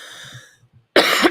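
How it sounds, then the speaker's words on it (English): A sharp, loud cough from a person with an asthma flare who has been sick for weeks, coming abruptly after a faint hum and alone. "So if I cough, I'm really sorry."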